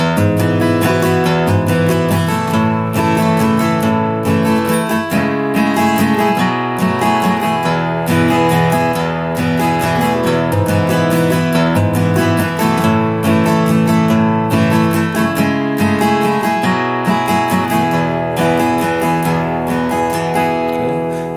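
A guitar strums the breakdown chord progression of a song in a steady rhythm, with full, loud chords moving continuously and no voices.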